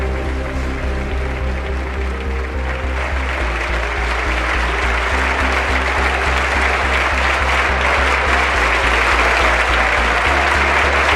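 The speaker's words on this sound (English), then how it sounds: "you can hear the sustained and very enthusiastic applause." A large crowd in the U.S. Congress claps loudly and steadily for Corazon Aquino's speech, the applause holding at full strength the whole way through without a pause.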